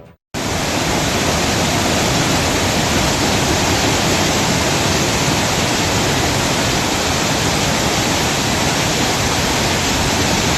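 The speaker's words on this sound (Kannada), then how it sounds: "ಉತ್ತರ ಕರ್ನಾಟಕದ ನದಿಗಳು ಅಪಾಯ ಮಟ್ಟ ಮೀರಿ ಹರಿಯುತ್ತಿವೆ" A loud, steady roar of North Karnataka rivers flooding above danger level, broad and continuous from start to finish after a brief silent moment.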